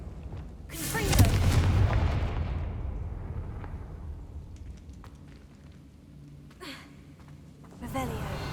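A fiery Confringo explosive spell bursts in the game Hogwarts Legacy. A loud booming blast rolls out and decays over several seconds, followed by fainter game sounds, a later burst and a voice.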